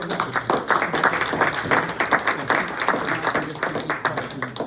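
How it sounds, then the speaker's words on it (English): A meeting audience gives a round of applause for a fire chief at a legislative committee session, dense steady clapping filling the whole stretch without pause. "Let's give him a round of applause."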